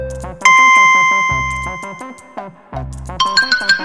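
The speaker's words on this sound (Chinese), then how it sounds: "果然是哆啦 A 梦的铃铛" Doraemon's bell sound plays in a cartoon-character guessing game: loud, bright electronic chimes ring in a few sustained bursts, ending in a quicker, higher jingling run.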